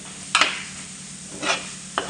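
Tomato frying into masala for a Kerala crab roast gives a soft continuous sizzle, cut by three brief scrapes of a spoon stirring the pan.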